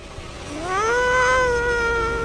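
A single long video game cat meow rises and then holds, loud and clear over a low background hum, with no talking.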